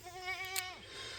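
One close, wavering bleat rises from a mixed farm herd of about fifty nanny goats and thirty ewes, brief and fairly faint, with no talk over it.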